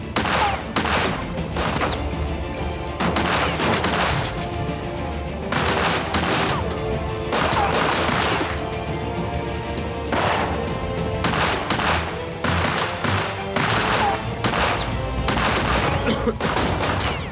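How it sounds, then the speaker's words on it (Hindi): Repeated bursts of gunfire crackle loudly in rapid volleys, overlapping shots and booms filling the scene almost continuously. "गोली चलाओ।"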